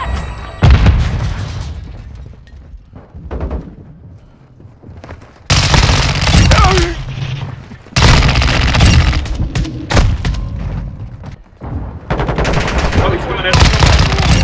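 Gunfire from X12, X13 and P890 pistols in Modern Warfare 2, with rapid dense bursts and loud booms in several separated volleys, broken by quieter stretches of game ambience and faint voice callouts.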